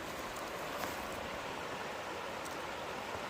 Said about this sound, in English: And you can just hear the water.